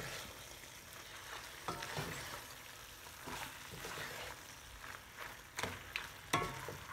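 Macaroni salad being stirred and mixed in a bowl, with soft scraping and squelching strokes rising in irregular bursts over a low background hiss, close and moderately quiet.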